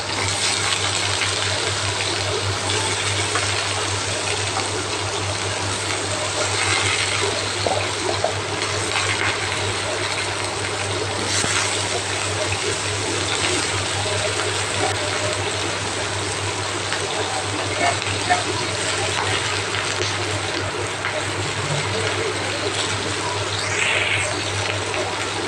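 Cauliflower and potatoes frying in hot oil at a large festive cooking, a continuous dense sizzle with a low steady hum underneath and a few faint clinks, holding evenly throughout.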